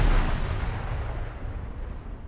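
A heavy vehicle-mounted cannon fires in the Warhammer 40k mod of ARMA 3: one loud, deep boom at the start rolls off into a long low rumble that fades.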